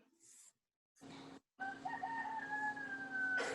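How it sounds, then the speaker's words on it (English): A rooster crows once in a long, drawn-out call, faint and distant in the background after a few short muffled noises. "Somebody has a rooster crowing in the background there"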